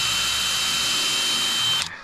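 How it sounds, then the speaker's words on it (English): A power drill pre-drills into 2x4 lumber for a chicken coop build, a loud, steady high-pitched whine held close for nearly two seconds before it cuts off abruptly. "apparently I have to pre-drill this"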